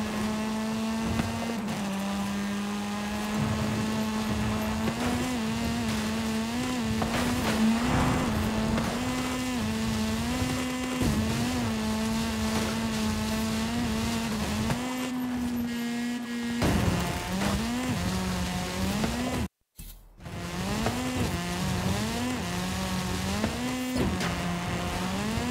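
Lamborghini Centenario racing in Forza Horizon 5, its engine holding a loud, steady harmonic drone that rises and dips through gear changes, with a brief dropout near the end.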